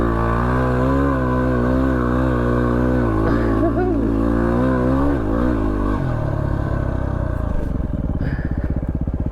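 A car engine revs hard and steadily while climbing a sand dune in the Simpson Desert, loud and close throughout. The pitch rises and strains, then the tone shifts into a rougher, lower throb near the end as voices talk over it.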